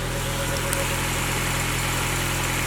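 K-swapped Honda Integra project car engine idling smoothly, a steady close rumble with a constant even tone throughout, no voices.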